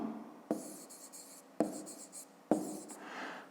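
Handwriting on paper, three bursts of scratchy pen strokes, each starting with a sharp tap and trailing off into lighter scribbling, close and fairly quiet with short gaps between.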